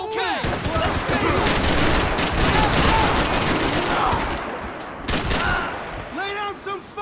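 Dense, loud gunfire from Max Payne 3, with rapid bursts and single cracks overlapping into a sustained fusillade, and voices shouting in the mix.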